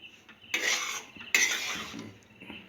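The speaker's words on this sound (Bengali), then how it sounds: "যেহেতু কড়াটা গরম আছে তাই জন্যে নেড়ে যেতে হচ্ছে হালকা করে।" Coconut korma fishing bait for catla is stirred in a hot wok, producing two distinct scraping, clinking strokes of a utensil against the metal pan, close and clear, with no talk.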